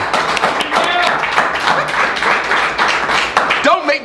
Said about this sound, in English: they really should burst into spontaneous applause right now.